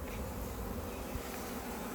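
Honeybees buzz steadily at a hive in an apiary, a dense, close, continuous hum with no voices over it.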